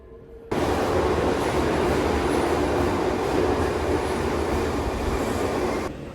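Subway train in Kyoto heard from on board, a loud steady rumble of wheels and car noise that starts abruptly and holds constant, with faint high squeals, then drops off at the end.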